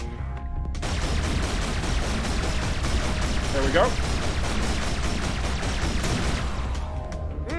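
Cannon weapon firing in the space shooter game EVERSPACE 2, a dense rapid stream of repeated blasts and crackling impacts lasting several seconds, loud and continuous, with a brief spoken remark over it.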